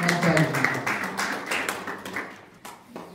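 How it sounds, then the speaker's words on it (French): Applause at an official Union Sacrée Belux gathering in Brussels, a burst of clapping from a crowd that fades over a few seconds, close and fairly loud, with voices mixed in. "On applaudit très très fort"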